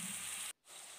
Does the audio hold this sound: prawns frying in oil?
yes